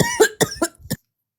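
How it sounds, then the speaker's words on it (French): A woman coughs four times in quick succession, sharp and close, each burst short and raspy, then silence follows. "elle est venue juste pour nous tousser"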